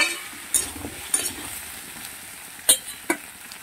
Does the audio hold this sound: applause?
no